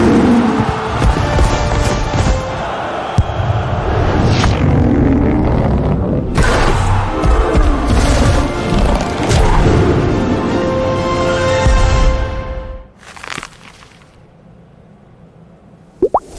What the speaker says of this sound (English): Granite cracks.